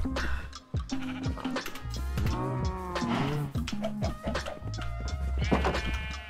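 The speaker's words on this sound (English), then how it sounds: "Come here, sheep." Repeated sheep bleats in Minecraft, loud and close, overlapping one another with a deeper cow moo mixed in, continuous throughout.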